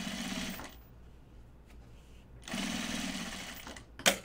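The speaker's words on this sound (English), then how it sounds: "And we're going to top stitch along this edge." Domestic sewing machine top-stitching along the edge of several fabric layers for a pocket bucket, two steady whirring runs separated by a quiet pause, ending with a sharp click.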